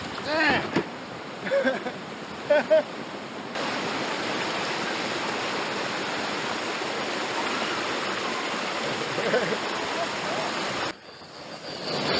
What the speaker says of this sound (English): Fairly decent flow of water there.